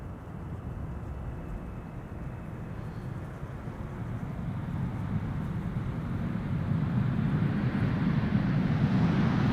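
Aircraft PH-BVS, seven years old, at Amsterdam Schiphol Airport, a broad jet engine roar heard from a distance that swells steadily louder as it draws nearer, with no voices.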